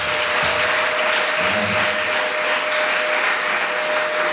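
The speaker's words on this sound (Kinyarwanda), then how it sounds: "muri byose dukusanye amashyi dukomere Imana mu izina rya Yesu" A church congregation at a revival gathering claps steadily and continuously, a dense wash of applause filling the space from start to finish.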